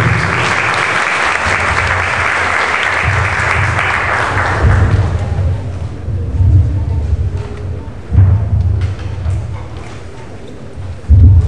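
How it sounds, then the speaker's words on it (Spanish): A large crowd at a lecture applauds loudly and continuously, the clapping steady and full throughout with no speech over it. "Recibimos con un fuerte aplauso"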